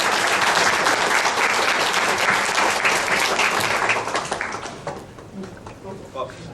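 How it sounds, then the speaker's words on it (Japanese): Audience applause fills the room at a talk show on agile testing, a steady dense wash of clapping that holds loud for about four seconds before thinning and tapering off. "大きな拍手でお願いいたします。"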